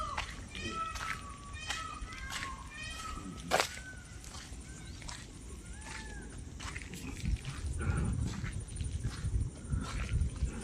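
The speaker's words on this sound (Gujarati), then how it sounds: "જો મોર બોલે છે સંભળાય તમે?" Peacocks call outdoors in Gujarat on a monsoon day, sharp wailing cries repeated every second or so at moderate distance, with someone talking and light background noise.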